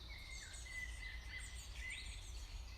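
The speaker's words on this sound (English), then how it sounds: "Can you hear the birds singing?" Birds chirp and trill in the distance at Årungen Lake over a steady low outdoor rumble, with insect-like buzzing woven through; no one speaks.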